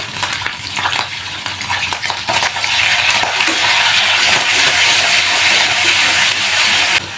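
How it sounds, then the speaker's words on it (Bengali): Onions dropped into hot oil after prawns have been fried, sizzling and crackling loudly and steadily close up, with some stirring noise early on and no talking. "চিংড়ি মাছ ভাজা হয়ে গেছে, এ পর্যায়ে আমি পেঁয়াজ দিয়ে দেবো।"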